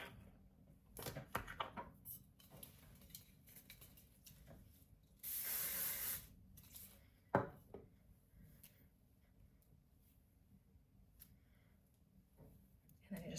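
Hairspray sprays onto hair in a short hissing burst lasting about a second, amid quiet rustling and handling sounds.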